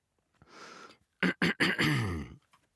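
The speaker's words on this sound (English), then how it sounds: "I'm just gonna clear my throat properly." A person clears their throat during a home audiobook recording session: a soft breathy rasp, then a few short, sharp guttural bursts followed by a longer voiced hack, close to the microphone in an otherwise quiet room.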